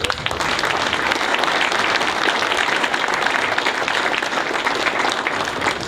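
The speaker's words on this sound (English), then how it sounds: "I'm grateful if you'd give them a round of applause" An audience at the Winter Gardens in North Thanet applauds the election count staff after the result, a steady, dense roar of clapping that fills the hall evenly from start to finish.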